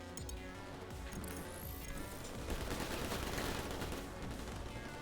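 Gunfire in the video game New Tales of the Borderlands, dense, rapid bursts of automatic weapons overlapping in a loud, continuous fusillade lasting several seconds, with no talking.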